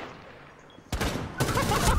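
Video game gunfire erupts in two sharp, loud bursts of rapid automatic shots after a quiet lead-in, with faint voices underneath.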